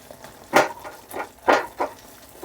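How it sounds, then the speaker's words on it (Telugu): Tomatoes frying in a pan for red tomato chutney for idli are stirred with a utensil, giving several distinct scraping, clattering strokes spaced about a second apart over a soft background sizzle. "వీటిని మధ్య మధ్యలో కలుపుతూ ఉండాలి"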